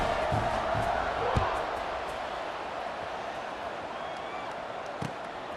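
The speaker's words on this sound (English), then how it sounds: "this crowd is buzzing after that last score" A football stadium crowd at a Maryland vs SMU college game roars in a steady, broad wash of noise after a touchdown, with a few sharp thumps and shouts rising out of the din.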